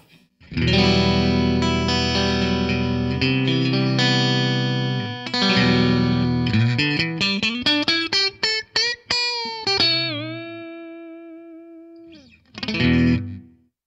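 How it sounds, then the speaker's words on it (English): Clean, bright electric guitar chords through a Line 6 DT25 amp on its American blackface-style voicing ring out, then a run of plucked notes climbs upward and a final note is bent and sustained, with subtle warble. "On voicing 1, we have the American blackface style of amp."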